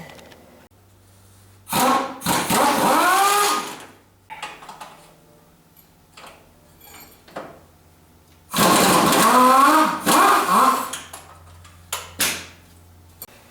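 An air tool works loose the exhaust bolts on a 1987 Toyota MR2, two loud bursts of ratcheting whir a few seconds each, separated by quieter clanks and taps.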